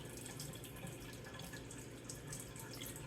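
Water drains slowly from a TEMU mini washing machine, giving a faint, steady trickling and gurgling flow that stays low and even throughout.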